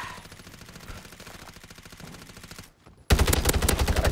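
Rapid automatic gunfire from a video game weapon, loud and close, with a dense stream of bursts that drops out briefly and then returns as a sharper, louder barrage.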